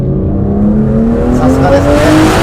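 A 2025 Aston Martin Vanquish on a winding road squeals its tires as the rear slides through a corner, a loud rising engine drone carrying a sustained tire screech close by.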